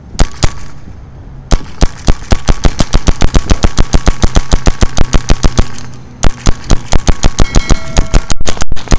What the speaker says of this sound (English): We'll go ahead and shoot the rest of this hopper.